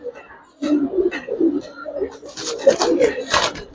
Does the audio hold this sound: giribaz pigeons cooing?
yes